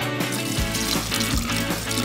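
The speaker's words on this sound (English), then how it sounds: "Then pour the olive oil into the container." Olive oil pours from a bottle into the container of a Misto oil sprayer in a kitchen, a steady liquid stream with a few gurgling pulses, fairly close and continuous, with no talking.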